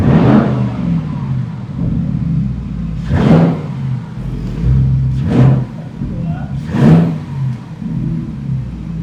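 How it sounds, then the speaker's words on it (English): A custom Audi RS6 engine revs in several sharp bursts with an intake sucking sound on each press of the throttle, rising and falling between quieter idle stretches as people talk nearby. "You can hear it sucking. As soon as you press the gas pedal fast, you hear it."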